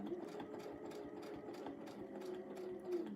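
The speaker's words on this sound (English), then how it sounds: "So here on this one, I'm going to sew up to the top right here." A sewing machine runs steadily, stitching a squat oval clamshell quilt block in a continuous, even mechanical whir with a fast rhythmic pulse, close up and alone.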